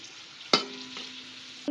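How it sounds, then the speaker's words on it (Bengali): Cashews and raisins frying in ghee and oil, a soft continuous sizzle broken by one sharp stirring clatter and a faint scrape near the end, close and fairly quiet with no voices. "এবার দিয়ে দেবো আমি কাজু বাদাম আর কিশমিশটা ভেজে নেবো"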